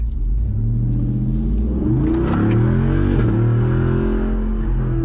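A vehicle on 37-inch tires revs hard through rising engine sweeps, then its throttle cuts. The engine note is loud, close and continuous, with no voices over it.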